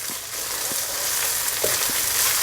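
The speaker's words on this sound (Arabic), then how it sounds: "بس تسبك معنا الدجاج مع البصل والسماق" Chicken pieces frying in a pan with onion and sumac, seasoned with salt and pepper for Palestinian musakhan: continuous close sizzling hiss with a few soft scraping stirs, no talk.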